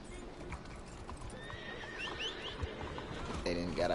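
Spooked horse in the Red Dead Redemption 2 video game, with clip-clopping hooves throughout and a sharp neigh near the end, fairly faint, under a background voice.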